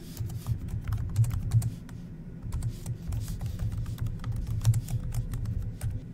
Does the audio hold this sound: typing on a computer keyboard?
yes